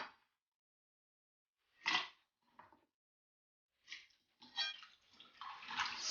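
Peeled cassava gets a quick rinse in a bowl of water, brief splashes and sloshing in separate bursts, then steadier swishing and trickling toward the end, with no voices.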